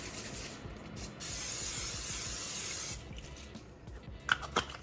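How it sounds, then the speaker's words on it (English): Canola oil sprays from a can into the basket of a Ninja Foodi XL Pro grill, a single close hiss lasting about two seconds, followed by light clicks and rattles of the basket. "I am going to spray some canola oil in the basket there"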